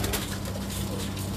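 Pigeons coo steadily on a rooftop in Pakistan, a continuous soft murmur of bird calls over a dense, noisy background.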